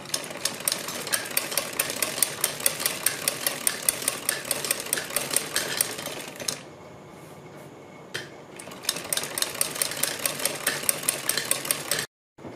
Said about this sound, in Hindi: बीच में इस सिलाई लगाने के बाद हम बुकरम के बिल्कुल बराबर बराबर में पूरे गले